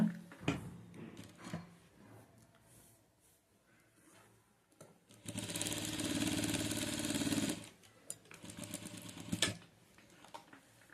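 A sewing machine stitches a pocket onto plazo pants, running in one steady loud burst for about two seconds mid-clip between quieter handling noises and brief clicks.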